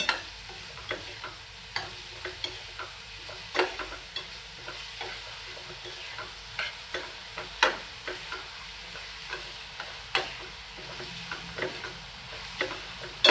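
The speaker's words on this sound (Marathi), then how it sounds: "कांदा मऊ होईपर्यंत मी थोडंसं ढवळते" Onions with a little salt and chilli powder frying in a kadhai for a whole masoor curry, a steady close sizzle broken by sharp scrapes and clinks of a spoon stirring at irregular intervals, with no talking.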